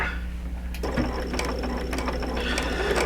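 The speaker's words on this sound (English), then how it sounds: "I'm going to just sew right along the edge between the selvage" A sewing machine stitching along the edge of a quilt, starting about a second in with a fast, steady mechanical whir and needle clatter close by over a low hum.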